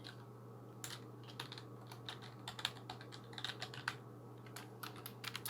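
A username is typed on a computer keyboard during GTA V FiveM roleplay: quick, uneven bursts of close, quiet key clicks over a low steady hum, with no talk.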